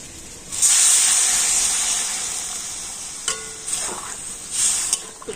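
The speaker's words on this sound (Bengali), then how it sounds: "আর এবার আমি আলুর মধ্যে দিয়ে দেবো গরম জল" Hot water poured into a pan of frying spiced, pre-boiled potato curry bursts into a loud hissing sizzle that slowly fades, followed by a few shorter flare-ups of hiss and spatter.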